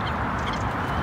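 Waterfowl at a park lake calling in a dense chorus, with Canada geese among them, loud and continuous honking and quacking alongside other lake birds.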